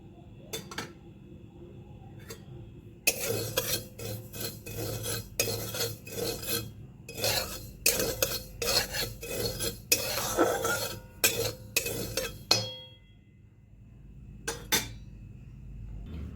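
Poppy seeds are fried and stirred in a pan, with bursts of scraping and clinking from a metal spatula, loud and close, separated by short pauses, with no voices.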